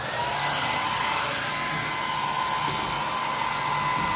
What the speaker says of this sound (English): Let's give him a little bit more of the hair dryer.